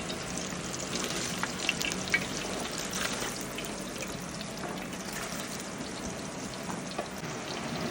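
Food deep-frying in heated oil while sweet banana snacks are prepared for the Onam festival, a steady crackling sizzle with scattered pops that stays even and close throughout, no talking.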